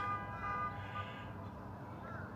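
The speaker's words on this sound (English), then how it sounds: "Whoa! Somebody's alarm." Somebody's alarm wails faintly in the distance in an almost deserted small Arkansas town, a thin sustained electronic tone over a low ambient hum.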